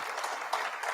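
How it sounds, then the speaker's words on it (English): A short stretch of steady applause from a conference crowd at an opening ceremony, dense clapping at moderate volume. "Let's give them another round of applause."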